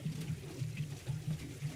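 A Fortnite video-game character urinates on a car, giving a faint, steady liquid trickle and splash with a low continuous background hum throughout.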